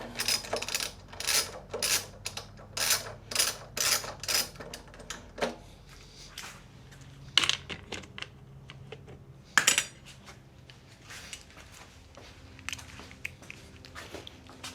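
Hand wrench tightening the intake bolts on a 2025 Yamaha MT-07 during an intake install, giving close, rapid metallic ratchet clicks in bursts with light clanks of tools between them.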